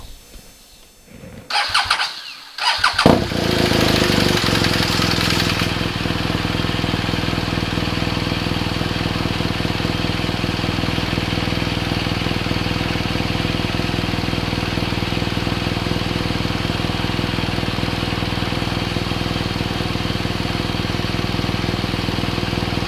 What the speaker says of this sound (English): I'm going to start the motor up